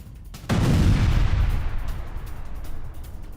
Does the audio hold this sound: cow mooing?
no